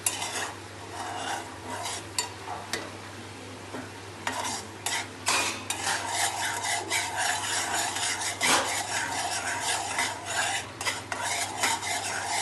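Sugar syrup for a cashew dessert is stirred in a hot pan, with a spoon scraping and rasping in repeated strokes over a steady low bubbling hiss, close and fairly loud, no talking.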